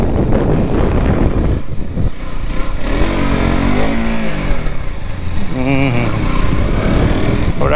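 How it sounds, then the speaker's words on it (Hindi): KTM RC 200 motorcycle lapping a race track in Ahmedabad, engine droning steadily throughout with rising and falling revs, nearby and loud, while someone talks over it. "थोड़ा टफ तो है ट्रैक पे बाइक चलाना"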